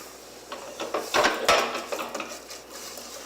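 Onion and lentils in oil being stirred in a pot, a spoon scraping and clinking against the sides in short uneven strokes, close and fairly quiet.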